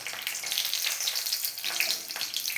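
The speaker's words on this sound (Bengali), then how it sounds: "তেলটা গরম হয়ে গেলে আমি ফোড়নে দিয়ে দেবো শুকনো লঙ্কা আর কাঁচা" Dry and green chilies hitting hot mustard oil in a kadai, a loud, dense crackling sizzle that holds steady the whole time with no voices.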